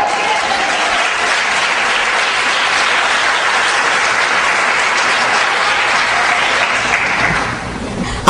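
Sustained, loud applause from a church congregation fills the space alone, steady throughout before easing slightly near the end.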